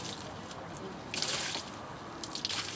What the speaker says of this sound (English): The final touches, just take some more salt water and rinse the fresh water off with it.